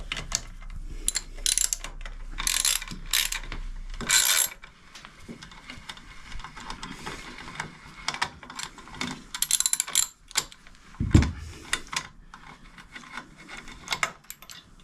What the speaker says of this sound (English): I'm going to loosen off these bolts inside here